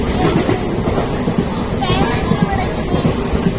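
A passenger train runs along the line in Kerala, heard from inside the carriage as a steady rumbling roar with faint rhythmic clatter, while people chat nearby.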